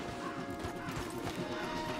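Horses in a video game as riders dismount, with soft clip-clopping hooves and a faint whinny over a steady outdoor background, no talk.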